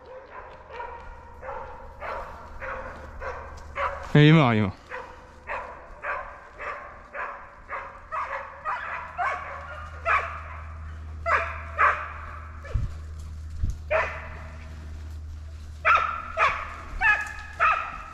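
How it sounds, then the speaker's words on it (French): A hunting dog barks repeatedly during a wild boar drive hunt in the woods, with sharp yips and barks spaced irregularly throughout, one louder whining burst early on, and someone speaking briefly. "Attends, il y a le chien."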